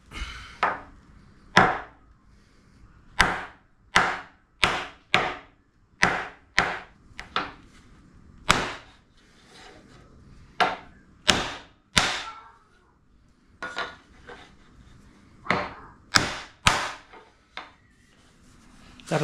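A long series of sharp wooden whacks, irregularly spaced with short pauses, each a hard knock like a mallet driving a wooden piece of a sunroom table home.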